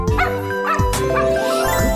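A puppy yips and barks close by, with several quick, loud, high-pitched cries repeating in a rapid rhythm.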